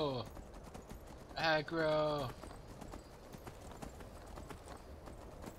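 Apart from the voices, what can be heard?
horse hooves in the video game Skyrim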